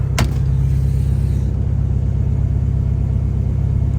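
Turbocharged H22-powered Honda Accord under way, a steady loud low engine drone with even rhythmic pulsing throughout, running slightly rich, with no talking.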